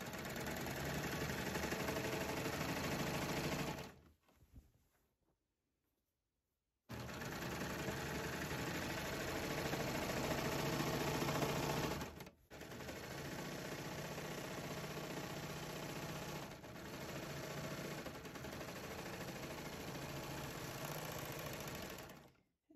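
A sewing machine stitching the side seam of pyjama pants, a loud close steady motor whir running in long stretches with a full stop of a couple of seconds and brief pauses between runs.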